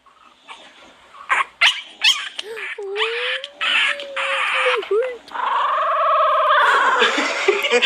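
A small puppy yelps, whines and makes squeaky, warbling cries, close and fairly loud, with a person's voice mixed in.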